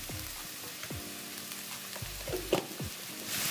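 Sliced onions with a little salt sizzle and fry in a pan, with intermittent scraping stirs over a steady, moderately quiet crackle.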